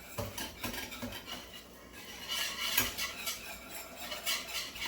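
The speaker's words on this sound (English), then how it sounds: "I'm just trying to break up these clumps of butter and flour that are right here. Just keep whisking them." A whisk scrapes and clinks steadily against a pan as butter and flour clumps are broken up, a busy run of metallic stirring with no talk.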